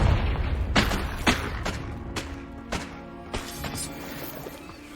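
Fiery blast spell bursting in the Hogwarts Legacy game: a string of sharp booming impacts, several spaced hits across the clip, loud and close over a low rumbling game background with no talk.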